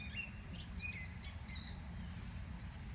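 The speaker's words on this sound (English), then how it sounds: "Birds are very chirpy now." Birds chirp and tweet at a lake campground in Indian Lake State Park, with short scattered high calls over a steady low outdoor rumble.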